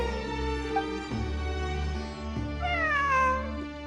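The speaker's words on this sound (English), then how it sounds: "It really is a cat." A cat in Genshin Impact meows with a long drawn-out cry that rises and falls, clear and close, set over a sustained musical drone.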